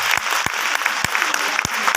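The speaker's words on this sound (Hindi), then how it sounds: "मैं चाहूंगा एक बार ताली बजना चाहिए" Audience applause at a live talk about women in direct selling in Kolkata, a dense steady clapping from a crowd with sharp individual claps standing out, continuous and loud throughout with no talk.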